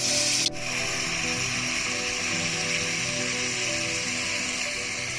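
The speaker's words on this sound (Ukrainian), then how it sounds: "Будемо тепер три інгредієнти наші перемішувати." Plov ingredients are stirred together in a hot pot, giving a steady scraping, rubbing sizzle with a sharp clatter at the start, close and continuous with no talking.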